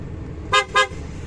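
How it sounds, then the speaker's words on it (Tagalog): A PIAA aftermarket horn fitted to a Volkswagen Golf honks twice in quick succession, two loud, close blasts each about a tenth of a second long, with a low engine idle underneath. "paparinig ko lang sa inyo yung busina guys. Kung gano'ng kalakas ang busina na pina-install natin"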